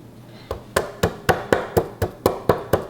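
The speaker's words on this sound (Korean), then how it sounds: "마늘은 그냥 대충 이렇게 빻아주세요. 칼등으로 이렇게 빻아주는 게 가장 쉽거든요" Garlic cloves are crushed on a cutting board with the back of a kitchen knife, with nine sharp, evenly spaced thuds in a steady rhythm, close and fairly loud, and no talking.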